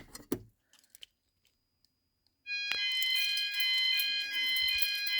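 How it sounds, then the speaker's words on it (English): A few clicks and knocks as a call point is tested, then a loud electronic EMS 5000 Firepoint home fire alarm sounder starts up and blares continuously with shrill overlapping, unsynchronised tones. "You'll hear the alarm sounds very cool."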